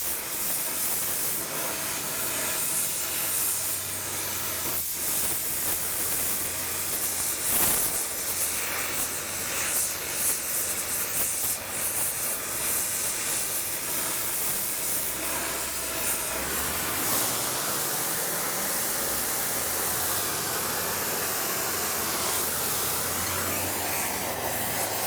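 Steady roaring hiss of a gas torch preheating and burning out a broken transmission part before welding, continuous and close for the whole stretch, with a low rumbling hum underneath.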